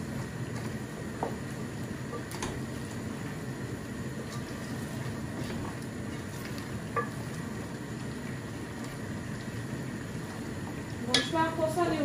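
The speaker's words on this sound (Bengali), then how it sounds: "মিক্স কারি পাউডার দিলাম, দিয়া এখন সুন্দর করে খসাইয়া নেই।" Curry powder and spices fry in a pan with a soft, continuous sizzle and occasional stirring scrapes, faint and close, with a person talking over it now and then.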